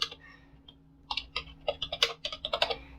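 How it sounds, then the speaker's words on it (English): Someone types a command on a computer keyboard in a terminal: a short run of quick, close key clicks in an uneven rhythm, quiet with no talking. "So just type in your terminal dpkg"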